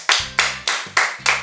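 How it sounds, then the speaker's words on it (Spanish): Five crisp hand claps from a single person, evenly spaced and close, with no other sound between them. "un aplauso que lo voy a dar yo solo"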